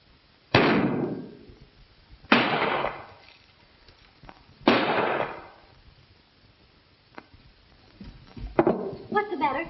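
Three sharp, loud gunshots ring out a couple of seconds apart in a western fight scene, each with a long echoing decay, followed by a faint click and some scuffling noise near the end.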